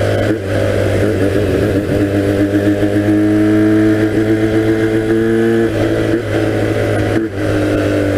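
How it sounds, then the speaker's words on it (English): 1982 Honda 250cc flat track motorcycle engine revving on a washboard dirt road, a loud close buzzy drone that climbs in pitch through gear pulls and drops with brief shifts, sounding like a two-stroke. "This thing probably sounds like a two-stroke on camera"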